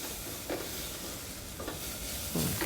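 Vegetables cooking in a pan over a medium fire, a soft steady sizzle broken by three brief scraping stirs at a moderate distance.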